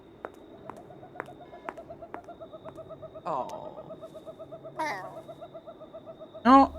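A crow in The Sims 4 gives a steady run of soft, evenly pulsed calls, broken by a few sharper cries and a louder call near the end. No one talks.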